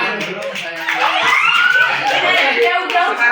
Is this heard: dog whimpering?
no